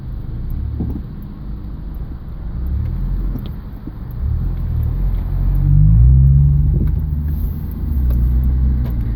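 A 2000 Subaru Legacy engine losing power while driving on the road gives a low, steady rumble that swells and eases with throttle, heard from inside the car with no talk.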